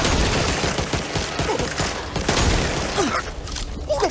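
Dense, continuous gunfire rattles through a zombie shooter match in Back 4 Blood, with rapid overlapping shots and bursts filling the whole stretch at close range, loud and without pause.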